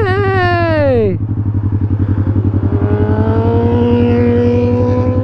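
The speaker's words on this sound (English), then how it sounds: "Beautiful car." A car passes close by, its engine note sweeping downward in pitch over about a second as it goes, then the steady, throbbing idle of a nearby motorcycle carries on underneath at the roadside.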